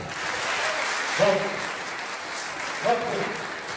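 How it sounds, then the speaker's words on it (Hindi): Audience applause at a Hindi poetry gathering, a kavi sammelan, steady moderate clapping from a crowd with a couple of brief voices calling out over it. "आशीर्वाद और शुभकामना की तालियां होगी"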